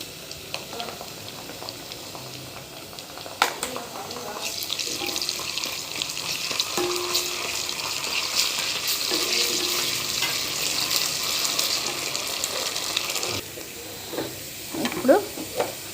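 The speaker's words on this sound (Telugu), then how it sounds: "ఉల్లిగడ్డ వేయించుకోవాలి ఒక స్పూన్ ఆఫ్ అల్లం వెల్లుల్లి వేద్దాం" Onions frying with ginger garlic paste in a pan: a steady, moderately loud sizzle and crackle with occasional stirring clinks, building to a stronger hiss midway and easing off near the end, with no talk.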